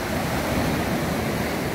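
Sea surf breaking at the shore in Lazarevskoye, Sochi, at sunset, a steady close wash of waves with wind noise across the microphone, loud and continuous, with no voices.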